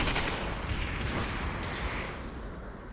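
Gunfire rattles on steadily through the full three seconds in the battle-royale VR shooter Population: One, dense and fairly loud with no single crack standing out, fading slightly toward the end.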